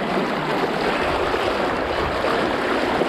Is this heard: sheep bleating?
no